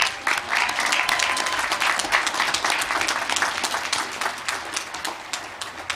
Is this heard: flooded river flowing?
no